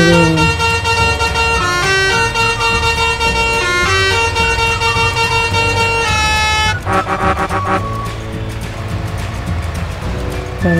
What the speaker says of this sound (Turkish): Kornamı basıyorum ve yola devam ediyorum.